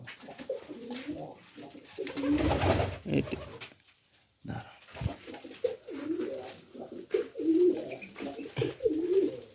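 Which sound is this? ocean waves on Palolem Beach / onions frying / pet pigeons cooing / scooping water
pet pigeons cooing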